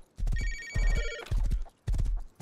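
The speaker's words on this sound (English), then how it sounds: "Oh, I got a phone call." An in-game telephone rings in the survival video game Rust, with a trilling electronic ring over heavy rhythmic thumping footsteps or hoof-like clops, loud and close.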